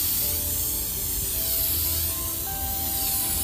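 A steady, continuous aerosol hiss of varnish sprayed from a spray can in sweeping motions over a painting lying flat, with a faint low rumble of wind underneath.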